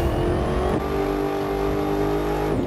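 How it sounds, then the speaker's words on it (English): Racing car engine in The Crew 2 holds a loud, sustained high rev with a shift partway through and a falling pitch at the end, with no voices. "I don't need to be making noises with the cars when the car's making the noise already"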